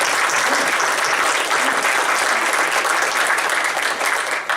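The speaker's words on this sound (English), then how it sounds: "So please join me in a round of applause for all of our sponsors." A crowd at a business networking event breaks into loud, sustained applause for the event sponsors, dense and even clapping that fills the room before tapering slightly at the end.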